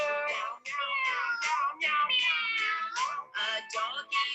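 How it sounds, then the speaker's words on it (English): A cat meows repeatedly at close range, a run of about ten rising and falling cries in quick succession, clear and alone. "A cat jumped up on my shoulder."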